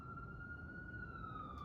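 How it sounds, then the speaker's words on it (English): An emergency vehicle siren wails outdoors, one sustained tone drifting slightly in pitch, steady and moderately distant over a low rumbling background. "I apologize for the siren."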